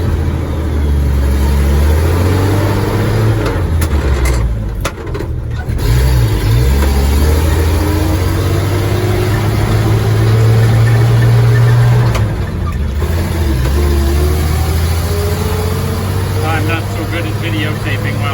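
A car engine with a cracked exhaust manifold runs loud and steady, droning with a low rumble as it pulls up to speed and shifting through gears, its pitch rising and dipping for about eighteen seconds.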